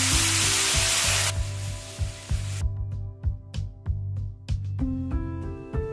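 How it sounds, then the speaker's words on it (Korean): Water hits a hot pan of browned pork and bursts into a loud hissing sizzle that cuts off abruptly, then quieter bubbling follows with clinks and scrapes from stirring. "뜨겁던 팬이 어느 정도 식으면 물 2컵을 붓고"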